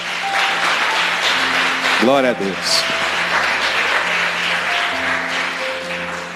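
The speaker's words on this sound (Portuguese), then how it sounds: "Aplauda Ele que Ele merece." Congregation applauding during a Portuguese-language church service, a steady broadband wash of clapping running through the whole stretch, with a voice speaking and singing over it.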